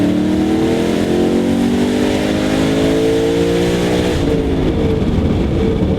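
A Ford Mustang accelerating hard in hot weather, its loud engine note climbing steadily in pitch for several seconds before a shift and rougher roar near the end.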